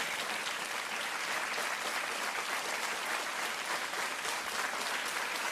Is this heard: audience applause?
yes